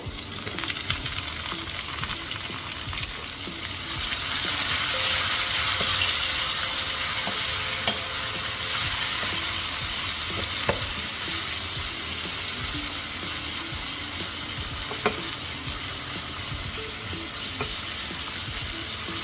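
Chopped onion frying in a pan for a snake gourd dish, with cumin and garlic already in the oil, gives a steady close sizzle with a few clinks and stirs, swelling briefly, and no voices.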